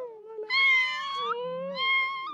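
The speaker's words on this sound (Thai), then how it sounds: "เป็นเสียงลูกแมวหิวนม" A newborn kitten, hungry for milk, gives two drawn-out, rising-and-falling meows close by, with a brief lower chirp between them and no talking.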